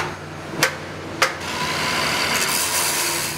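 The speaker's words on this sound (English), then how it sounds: "Using a cutoff wheel, trim along the line, cutting through both pieces of dimple." A cutoff wheel trims through two layers of dimple plate on a tank head. Two sharp knocks come first, then a steady, loud abrasive whine and hiss runs continuously nearby.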